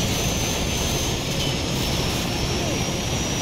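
An aircraft in Call of Duty 4 gameplay roars past with a loud, continuous engine drone and whine, steady and close, with a speaker's voice faintly present beneath the noise.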